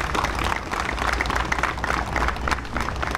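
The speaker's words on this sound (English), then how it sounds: "let's give them another round of applause" Dense, sustained clapping from a crowd at a fire department September 11th remembrance ceremony runs without a break, loud and even throughout.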